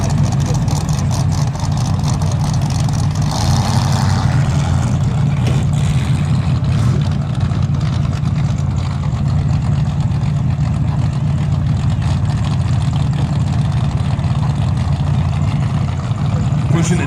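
Modified class race cars at Valley Raceway run behind a pace truck during a feature race, a loud continuous engine drone with rising revs, under an announcer's voice.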